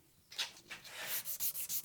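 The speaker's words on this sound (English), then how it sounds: "let me go over and get some hand sanding done" Hand sanding the blade of a 3.5-inch hunting knife, heard as a quick series of close, dry rasping strokes that settle into a steady back-and-forth rhythm in a quiet room.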